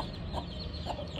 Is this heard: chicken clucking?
yes